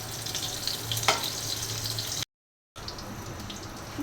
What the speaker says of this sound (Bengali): সব মেখে নিয়েছি, এখন ভেজে নেব।